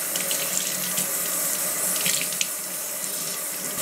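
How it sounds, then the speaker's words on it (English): A tie-dyed shirt being rinsed under a running tap, a steady close splashing rush of water with small irregular spatters as the fabric is handled, no voices. "So I'm going to rinse the shirt and see how"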